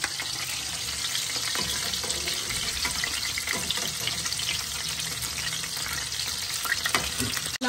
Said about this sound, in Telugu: ఇప్పుడు బాగా డీప్ ఫ్రై అవ్వాలి.